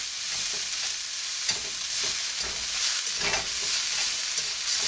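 Pork and ginger sizzling in a hot pan for Sichuan stringbeans, a continuous loud frying hiss with occasional stirring scrapes, no talking.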